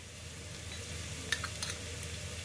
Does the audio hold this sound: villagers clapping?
no